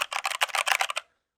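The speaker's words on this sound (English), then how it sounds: "It's pretty clicky." Rapid typing on a clicky mechanical keyboard with brown switches and a solid aluminum alloy base: about a second of dense, close key clacks that stops abruptly into silence.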